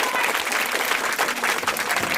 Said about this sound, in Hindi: एक बार दूल्हे दुल्हन के लिए जोरदार ताली बिना कहे आप लोग को बजाना चाहिए